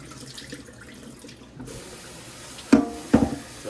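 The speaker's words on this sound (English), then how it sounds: "If you were to wash your rice 2 or 3 times, till the water actually come clear." Rice being rinsed under a running tap in a kitchen sink, a low steady wash of water that swells into two louder splashing bursts near the end.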